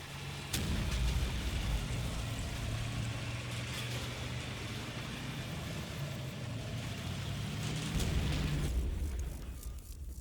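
A mortar barrage in the World War II game Combat Mission Fortress Italy, a dense continuous rumble of blasts rolling on for most of the clip with a sharp crack near the start, fading out at the end.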